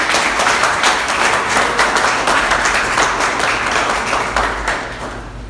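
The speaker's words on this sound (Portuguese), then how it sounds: "Aplauda o Senhor em nome de Jesus." A church congregation applauds during a worship service, dense broadband clapping sustained throughout and fading slightly near the end, close and fairly loud with no talk over it.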